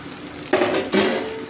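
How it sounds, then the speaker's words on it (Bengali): Chicken pieces being stirred in a frying pan, two loud metallic scrapes of a spatula against the pan over a low background hiss. "দিয়ে চিকেনগুলো দিয়ে ভালো করে নেড়ে চেড়ে পাঁচ দশ মিনিট নেড়ে নেবো"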